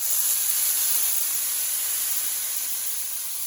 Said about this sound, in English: You know, you could hit it with a little bit of water.